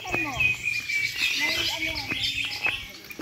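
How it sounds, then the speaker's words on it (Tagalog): Birds chirp and sing outdoors in the countryside of Quezon, with several overlapping tweets and trills close by and faint insect hum beneath. "Naririnig mo yung mga huni ng ibon?"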